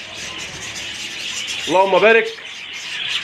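A pair of rosy lovebirds in a cage chirps in a short burst of rapid, close calls over a constant hiss, and a voice speaks briefly.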